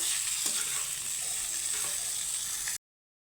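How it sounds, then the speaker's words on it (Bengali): Pointed gourd (potol) pieces fry in hot oil with a steady, close sizzle that holds evenly for a few seconds before cutting off abruptly. "পটলগুলো সুন্দর করে ভেজে নিয়েছি আমি এখন তুলে নেব পটলগুলো"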